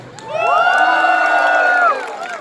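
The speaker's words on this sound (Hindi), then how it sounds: "जोरदार तालियों के लिए," A concert crowd at a Diwali show in Canada cheers and whoops loudly for about two seconds, a swell of voices that rises, holds, then drops off.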